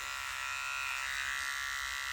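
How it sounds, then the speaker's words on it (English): Electric clippers gliding over the small paw pads of a dog to trim excess fur, a steady close high-pitched buzz with no voices. "Now we'll glide the clippers along the small pads to remove any excess fur here."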